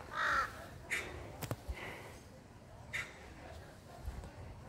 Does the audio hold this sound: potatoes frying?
no